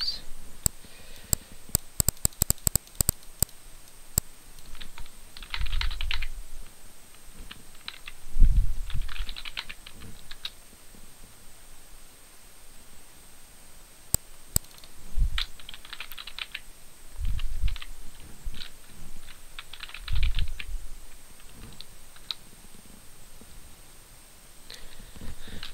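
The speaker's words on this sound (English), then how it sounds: "I'm gonna type YouTube and then I'm gonna type 1" Someone types a password on a computer keyboard in bursts of quick key clicks, with a fast flurry at the start, pauses between, and a few mouse clicks in a quiet room.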